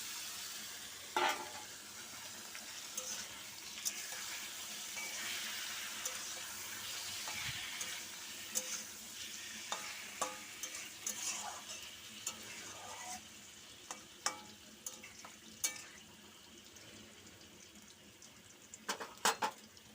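Meat goes into a pot of browned onions to fry, a faint steady sizzle marked by scattered stirring clatters and sharp utensil knocks, with a brief splash of water partway through.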